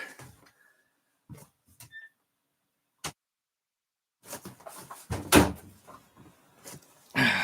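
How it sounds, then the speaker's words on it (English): An indoor door shut during a live Christmas broadcast: a single sharp thud stands out among a few quieter knocks, and speech follows soon after. "let me shut this door."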